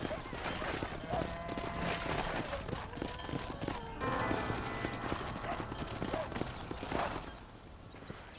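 Horse hooves clip-clop in a quick, steady rhythm in the Red Dead Redemption video game, a continuous trot carrying across the whole stretch with spoken dialogue over it.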